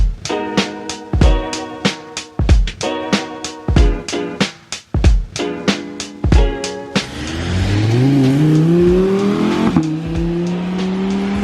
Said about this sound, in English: So here we are, we got the E36 driving by.